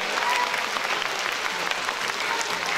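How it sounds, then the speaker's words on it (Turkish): A crowd at a children's musical theatre show claps steadily, dense and continuous applause filling the space as an audience vote for a race winner. "Yarışı Yupi ve Jet kazandı diyenler alkışlasın."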